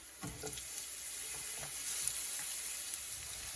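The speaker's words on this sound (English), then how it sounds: "Add in 3 sliced medium onions." Three sliced medium onions sizzling in a pan with garlic over high heat for fish biran, a steady soft frying hiss with faint stirring clicks, fairly quiet and without talk.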